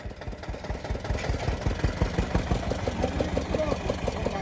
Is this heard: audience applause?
no